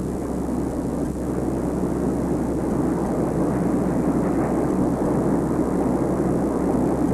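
A Tupolev Tu-95 Bear with four 15,000-horsepower turboprops driving eight-blade counter-rotating propellers makes a loud, constant, deep droning roar that holds steady from start to finish.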